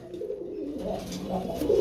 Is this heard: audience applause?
no